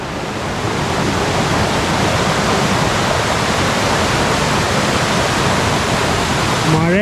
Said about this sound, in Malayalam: ഈ വെള്ളച്ചാട്ടമാണ് നമ്മൾ താഴെന്ന് കയറി വരുമ്പോൾ കാണണം കേട്ടോ